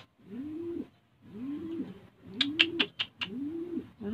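Pigeon cooing in four rising-falling phrases, evenly spaced and fairly close, with a brief burst of higher chirping or scuffling partway through.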